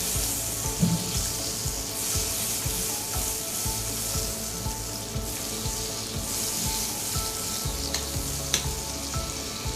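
Butter melts and sizzles in a kadai with a constant, close frying hiss and a rapid patter of tiny crackles, plus an occasional light clink; no speech.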